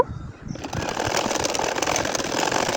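Sewing machine stitching a nakshi kantha quilt, starting after a brief quiet moment and then running in a fast, steady mechanical chatter, loud and close, continuing without pause to the end.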